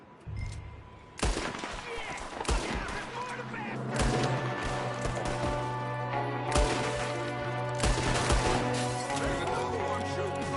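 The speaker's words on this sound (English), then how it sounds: "There's another one shooting from the window." Gunfire from a window during a Western-style shootout: repeated sharp shots and bursts across the clip, some loud and close, over a steady low hum, with voices talking between and beneath the shots.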